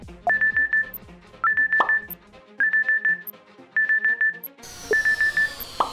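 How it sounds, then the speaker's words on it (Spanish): Smartphone alarm tone repeating in evenly spaced bursts of quick electronic beeps, five groups in a row with a steady rhythm. "En ese momento, la alarma del smartphone sonó."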